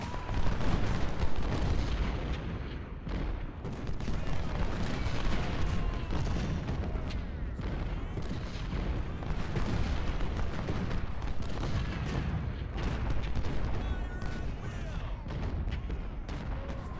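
Civil War battle in a video game, dense overlapping musket volleys and artillery booms rolling continuously at high volume with no pause.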